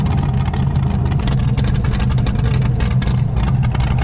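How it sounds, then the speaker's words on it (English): A V8 car engine roars continuously, loud and close, with a booming, enclosed echo as it revs inside a tunnel. "Who doesn't love revving it in a tunnel?"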